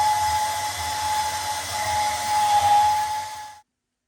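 Power tool cutting a 6.5-inch length from 2x2 tube during frame repair on a Saturn SC2, a steady loud whine with a sustained tonal ring running for about three and a half seconds, then stopping abruptly.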